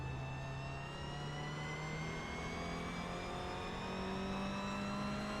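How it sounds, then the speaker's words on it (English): A race car on a track, its engine a loud continuous drone whose pitch climbs slowly through the clip, heard alone without talk. "You can hear the tyres just starting to lose adhesion."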